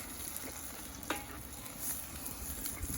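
A tin of canned tomatoes simmers and sizzles in a hot pan over a Flames Co fire pit, a quiet steady crackle with a faint stirring scrape partway through.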